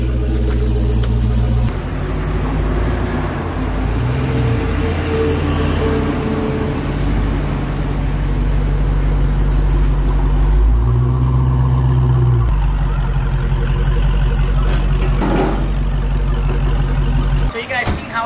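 A brand-new Dodge Hellcat with straight-piped exhaust idles loudly and continuously in a deep, steady rumble with slight shifts in pitch, close by for the whole stretch.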